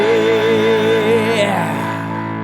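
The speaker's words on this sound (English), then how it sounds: "hold that thought until we cue the jingle" A short musical jingle with sustained tones and a bright melodic line, fairly loud and alone, fading slightly toward the end.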